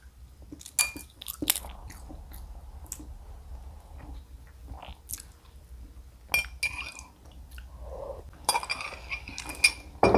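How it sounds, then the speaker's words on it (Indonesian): Soft bites and chewing of a steamed, boiled egg at close range, with scattered clicks and clinks of cutlery and dishes over a low background hum, no talking. "di sini aku mau makan telurnya terlebih dahulu"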